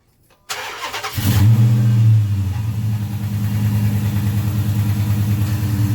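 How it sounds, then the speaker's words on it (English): A car engine cranks and catches after throttle body work, then settles into a steady, loud idle close by with a slight rev at startup, no voices. "I'll start the car, and let's see how she goes"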